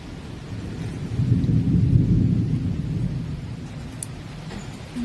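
Thunder rumbles low and steady through a thunderstorm with rain outside, swelling louder in the middle of the stretch before easing back, with no voices present.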